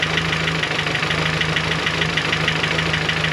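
A boosted G23BK engine idles cold with a steady, dense mechanical running note and a fine continuous ticking under it, close and loud with no breaks across the stretch.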